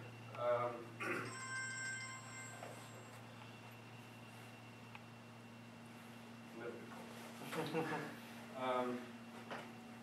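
A new mobile phone rings in a lecture room, with a few short tonal bursts in the first second and a constant hum underneath. Someone speaks before and after the ring.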